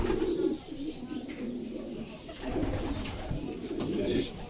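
Pigeons coo in a loft full of racing birds offered for sale, with soft repeated low calls overlapping continuously throughout while someone talks over them.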